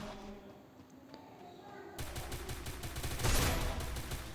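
Free Fire Max gameplay goes from a quiet stretch into rapid bursts of gunfire with dense, repeated shots that grow louder toward the end.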